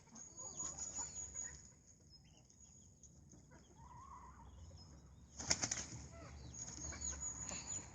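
Laying hens on a farm cluck and fuss close by, with a sudden burst of wing flapping and squawking partway through and soft outdoor background noise throughout.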